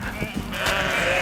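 A horned sheep bleats in a drawn-out, wavering call that swells louder in the second half, close and clear over a low rumble, with a few soft thumps early on.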